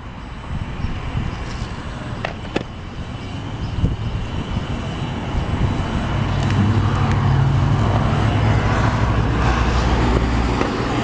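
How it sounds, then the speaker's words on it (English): A motorcycle rides along a freeway, with a steady rumbling road and wind roar that grows louder and denser about halfway through, punctuated by a few sharp knocks and no speech. "We're going to take this motorcycle on the freeway"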